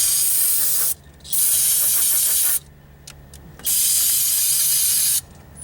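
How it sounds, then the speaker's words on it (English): Three bursts of aerosol cleaner spray hiss close by onto the engine of an OBS Chevy truck, the first short, a longer middle blast and a final one, separated by brief quiet pauses. "If you spray a little bit on it and then give it a second and then hit it again"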